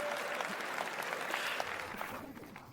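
Audience applause following a spoken-word poetry performance, steady clapping from a crowd at moderate distance, tapering off toward the end.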